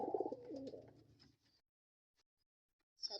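Pigeons coo close by in a bird-keeping setting, a soft throaty burble of rolling calls for over a second, then near silence broken by a faint chirp near the end.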